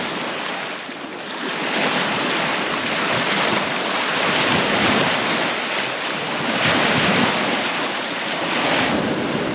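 Wind-driven choppy waves slap and wash against the shore of a mountain lake, a steady loud roar of surf and gusts filling the whole stretch without letup.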